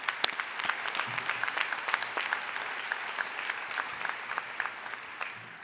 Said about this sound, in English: Let's give them a deserved round of applause.